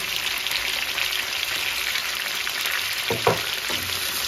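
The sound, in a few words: garlic ginger paste frying in pan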